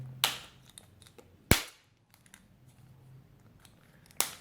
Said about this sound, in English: then just click it all back together